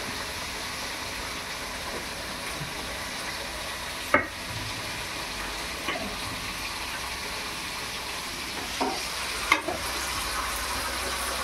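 Nalleru (veldt grape) stems for Rayalaseema-style chutney fry in a pan with a steady, hissing sizzle, broken by a few sharp clinks of a stirring spoon, and nobody speaks.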